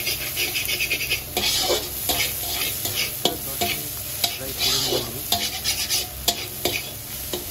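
A green pea chutney sizzles as it fries in a pan while a spoon stirs it, giving repeated scraping strokes and clinks over a steady hiss, close up and with no talking.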